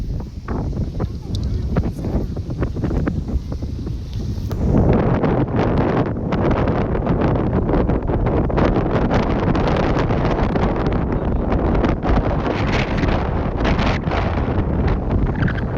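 Strong wind roars and buffets across the microphone throughout, loud and continuous, with a voice briefly audible under the gusts.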